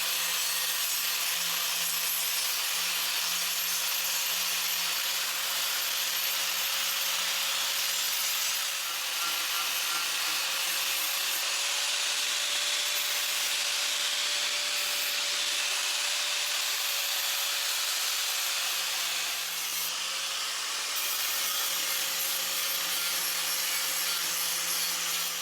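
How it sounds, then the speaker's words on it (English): Flap disc on an angle grinder working a steel belt guard back to bare metal, a steady, loud abrasive whirring and rasping that runs continuously with slight shifts in pitch and pressure, no voices. "So next trick is just using the flap disc, and I'm just going to get this right back to bare metal."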